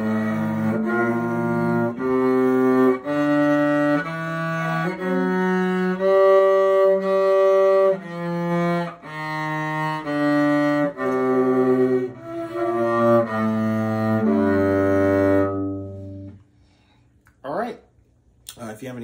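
Solo cello playing a G melodic minor scale, bowed note by note in a steady ascending and descending run, close and clear, ending with the last low note fading and a brief rustle.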